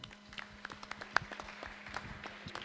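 Scattered applause from a press conference audience at the presentation of the 2015 Tour d'Auvergne cycling race in Châtel-Guyon, a few sparse claps forming a thin, modest patter over a steady background hum, with one sharper clap standing out.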